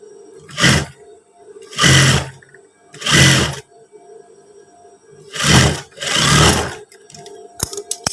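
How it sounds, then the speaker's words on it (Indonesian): A sewing machine stitches the zipper section of long trousers in five loud, close bursts of rapid whirring, each lasting about a second, with short pauses in between. "Kita lipat, kita jahit pas bagian sleting seperti ini."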